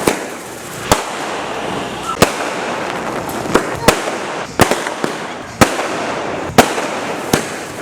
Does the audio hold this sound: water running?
no